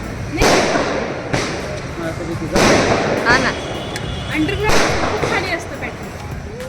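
Firecrackers burst loudly in a series of sharp cracks and bangs, several close together, over a continuous rumble of crowd noise and voices.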